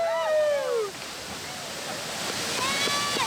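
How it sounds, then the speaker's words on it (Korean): Broad steady rush of a waterfall in an outdoor swimming spot, with people jumping in below, mixed with whoops and excited voices and a loud shout near the start. "바로 또 다른 폭포였다"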